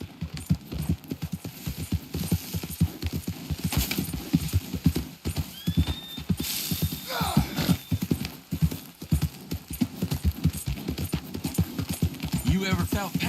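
Horse hooves clip-clop at a steady trotting rhythm in Red Dead Redemption 2, loud and close throughout, with a horse whinnying partway through and voices talking over the hoofbeats.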